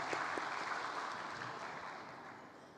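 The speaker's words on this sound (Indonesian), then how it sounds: "Saya ingin berikan tepuk tangan semua." An audience at a health ministry award ceremony for exemplary health workers applauds in a broad, fairly soft wash of clapping that gradually fades toward the end, with no talking over it.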